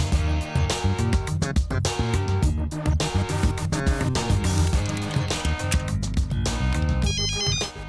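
A telephone rings on an office or home line in a dubbed South Indian action film, its electronic tones pulsing steadily for about eight seconds beneath a dense, loud music score.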